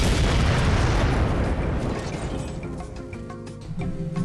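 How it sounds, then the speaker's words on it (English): A single heavy tank main cannon blast in Halo 4 booms out, then its rumbling echo decays over several seconds with some rattling debris-like noise at the tail. "Firing main cannon."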